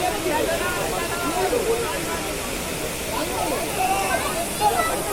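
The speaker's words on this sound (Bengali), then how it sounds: "এটা হচ্ছে বামনি ফলস," Bamni waterfall in Purulia, where people bathe, gives a steady, close, broadband rush of falling water that stays loud throughout, with voices faintly under it.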